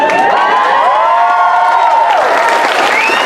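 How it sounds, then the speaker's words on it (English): A large audience at a DC Universe panel claps and cheers loudly and continuously, with whoops and shouts rising over the dense applause throughout. "You can stop clapping."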